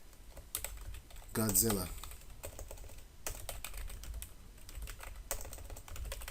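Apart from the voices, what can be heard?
typing on a computer keyboard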